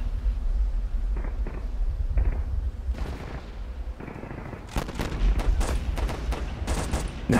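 In the video game Warfare 1944, machine gun fire rattles in short bursts, then builds to dense, rapid rounds in the second half, with heavy booms and battle noise underneath.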